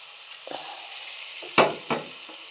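Washed mung dal is tipped into a hot pan for khichdi and gives two sharp, close sizzling bursts over a quiet, faint hiss. No one speaks.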